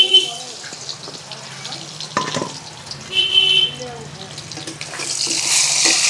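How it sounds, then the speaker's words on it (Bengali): Pointed gourd (potol), pre-salted and rubbed with turmeric, goes into hot oil for dorma, giving a hissing sizzle that swells toward the end amid kitchen clatter and a clink or two. "এইবার আমরা এটাকে দিয়ে দেবো, তেলে ভেজে নেবো সুন্দর করে"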